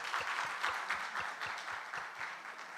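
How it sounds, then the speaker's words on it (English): An audience at a banking and ethics competition grand finale claps steadily for a few seconds, a dense, moderately loud round of applause heard alone without talk. "I think we can clap for GCB Bank."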